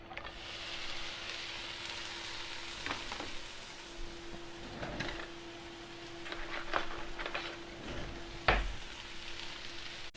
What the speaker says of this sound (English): So that started sizzling right away.